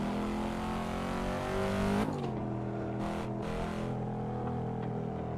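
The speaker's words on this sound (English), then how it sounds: "We're driving the Cadillac CT5V." A Cadillac CT5-V racing in the video game Assetto Corsa, its engine revving loudly then dropping sharply as it shifts or lifts off, with brief bursts of tire noise and continued engine drone.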